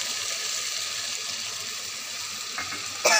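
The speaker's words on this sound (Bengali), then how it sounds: "একটু এর সঙ্গে বাটিটা ধুয়ে সামান্য একটু জলটা দিয়ে দেবো যাতে মশলাটা না" Water pours into a pan of yogurt-based fish curry gravy, a steady hissing, splashing flow that runs close and continuous, ending with a brief sharper clatter.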